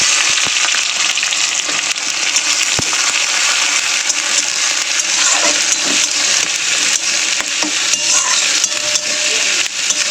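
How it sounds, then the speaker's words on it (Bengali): Chopped onions frying in hot oil in a wok with whole garam masala, a loud continuous close sizzle with scattered scraping and stirring clicks, no talk. "পেঁয়াজটাকে একটু লাল লাল করে ভাজতে দেবো।"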